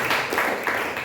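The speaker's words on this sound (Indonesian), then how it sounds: "Tepuk tangan untuk firman Tuhan" Church congregation clapping together after a sermon reading, a brief burst of dense, steady applause filling the room.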